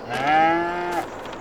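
A single cow moos close by on a farm, one clear, loud drawn-out call lasting about a second, heard alone without talk.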